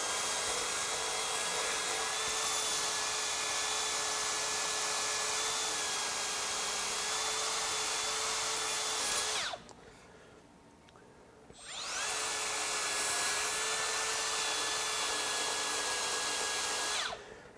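A Makita XSB01Z 18V brushless belt sander, a 3/8 x 21 inch power file, runs with a loud, steady high-pitched whir, stops for about two seconds, then spins back up and keeps running.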